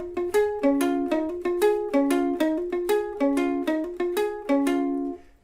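Ukulele riff leading into the bridge, a bright plucked acoustic figure repeated in steady, evenly spaced phrases, played alone and close.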